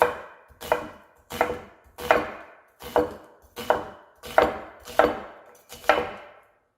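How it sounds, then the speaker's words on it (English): Knife finely chopping an onion on a cutting board for chimichurri sauce, eight crisp, evenly spaced chops close up, each with a short woody knock, with no speech. "you're going for a relatively fine chop on this."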